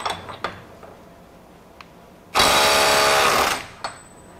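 A Ryobi One+ 18-volt compact 3/8-inch impact wrench, running in mode 3 to break nuts free, fires one loud rapid hammering burst of about a second, close up, with a few light clicks and handling knocks around it.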